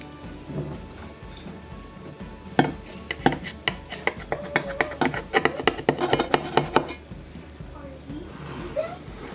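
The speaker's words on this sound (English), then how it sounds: "here is the cornbread that I made. So let's cut this open" A knife cuts and scrapes through homemade cornbread in a metal baking pan, giving a cluster of sharp clinks and scraping taps, fairly close, with quieter handling noise before and after.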